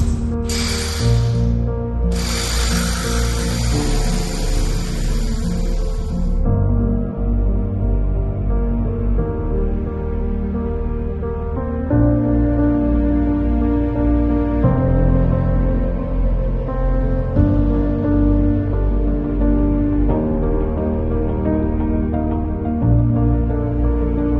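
A power tool bores and chases holes through the walls of an Italian villa for electrical wiring, grinding loud and continuous with pitch shifts as the bit bites, plus a harsh broadband burst near the start.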